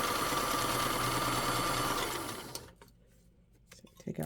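A vintage Kenmore sewing machine topstitching straps runs in a loud, steady whirring drone at close range, then winds down and stops about halfway, leaving near silence broken by a few small handling clicks.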